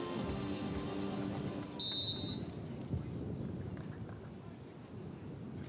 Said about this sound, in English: Wind still coming, rain still coming down.